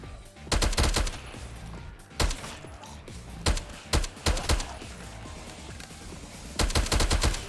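Loud bursts of rapid gunfire from a gun in the video game FRAGMENT, fired in several short volleys separated by brief pauses, each burst made of quick close cracks.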